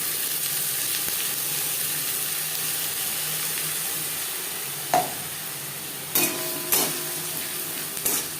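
Mashed bottle gourd leaves with garlic sizzle and are stirred in a wok over high to medium flame. The steady close frying hiss carries a few sharp spatula scrapes and clanks near the end.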